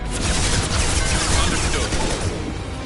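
Continuous loud gunfire from Mass Effect 2 on PS5, a dense rattling barrage close up with booming layered over it, running without pause from start to finish.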